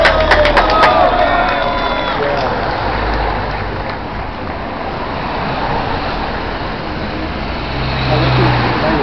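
Trucks roll past at a Tour de France stage finish in Vichy, a steady loud rumble of heavy engines close by, with crowd noise and scattered cheering around them and a few sharp clicks early on.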